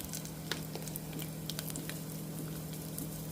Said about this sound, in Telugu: ఇది ఇప్పుడు మనకి పోపు వేగాలన్నమాట